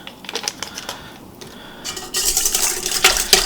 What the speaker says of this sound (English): And I'm just going to whisk that in.